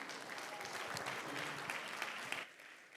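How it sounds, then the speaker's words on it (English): Warm audience applause welcoming debaters at a debate final: dense, steady clapping from a crowd for a few seconds, tapering off near the end. "With a warm applause, let's welcome them."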